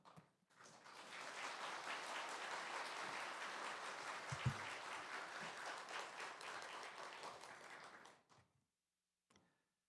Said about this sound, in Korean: 우리 목사님 나오실 때 우리 큰 박수로 우리 한번 환영하겠습니다.